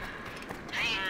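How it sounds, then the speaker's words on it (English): A cat meows in the video game Assassin's Creed Rogue Remastered, one drawn-out rising meow that rings out clearly near the end after a quieter stretch of game ambience. "Oh, a cat."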